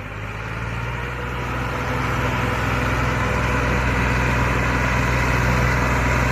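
A new 2019-model tractor with a front blade idles loudly and steadily nearby, hitched to a fully loaded 14-foot trolley, its deep rumble building slightly and holding constant with no talk.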